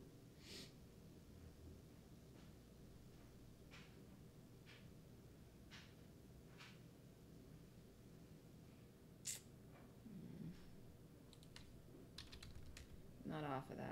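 Keys tapped on a computer keyboard at a live stock trading desk, a sparse run of soft, uneven clicks spread over several seconds, faint and close against a steady background hum.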